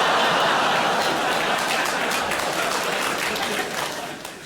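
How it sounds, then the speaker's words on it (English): A child in the crowd at a Jimmy Carr stand-up comedy show applauds loudly within a dense, steady wash of audience clapping that fades slightly at the end. "the fact a child has applauded that very loudly"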